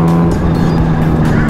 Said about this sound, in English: I need one just for that the blow-off valve